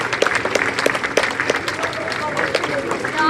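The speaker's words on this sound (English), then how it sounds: "Let's give them a round of applause." An audience at a high school ribbon-cutting ceremony claps for school staff, a burst of scattered, lively applause from a gathered crowd, with voices mixed in.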